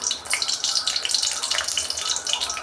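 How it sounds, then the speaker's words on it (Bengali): Dried red chillies crackle and sizzle steadily in hot oil in a cooking pan for tempering, a dense, continuous hiss that stays close and fairly loud. "শুকনো লঙ্কা ফোড়নে দিচ্ছি"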